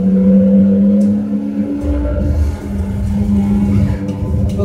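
Race car engine in Forza 6 on Xbox One, played with a Thrustmaster Ferrari 458 Spider racing wheel: a loud, steady droning engine tone that dips briefly mid-clip before picking back up, alone without talk.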